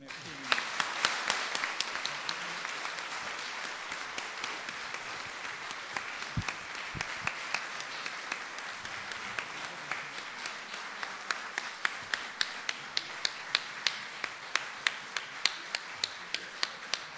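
A lecture audience at a conference on church and culture breaks into sustained applause, many hands clapping in a dense crowd rhythm, with a few sharper close claps standing out, fairly distant in a large hall.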